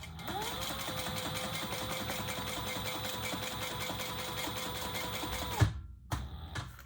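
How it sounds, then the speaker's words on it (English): A sewing machine runs steadily for several seconds, top stitching through the seam of a bag's pocket linings, then stops abruptly, leaving a few quiet handling clicks. "We're top stitching on the top. Through the seam."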